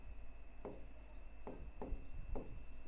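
Chalk or marker strokes on a board during a geography lesson, four or five distinct scratchy strokes spaced roughly half a second apart against a steady background hum, with no talking.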